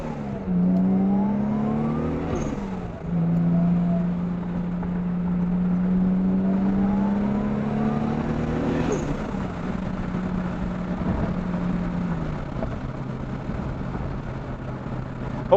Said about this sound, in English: Hopefully this audio is picking up that turbo, man.